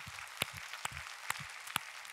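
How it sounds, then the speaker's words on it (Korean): A church congregation at a Sunday worship service gives thanks with applause, heard here as a handful of scattered, distinct hand claps spaced roughly half a second apart, fairly faint and with no talking. "오늘도 귀한 주일을 허락하신 우리 주님 앞에 박수로 감사하겠습니다"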